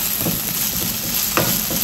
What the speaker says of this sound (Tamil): இப்போ கருவேப்பிலையோட சேர்த்து நல்லா வதக்குங்க.